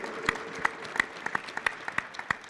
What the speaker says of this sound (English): Give him a big round of applause, Mike Furburn.